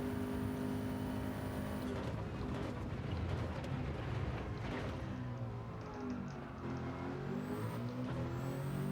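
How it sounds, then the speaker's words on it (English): Nissan GT-R R34 with a swapped engine racing on Sardegna Road A in Gran Turismo 7, a loud, continuous high-revving engine drone with shifting pitch as gears change, heard close and alone throughout. "this car is absolutely awesome to drive"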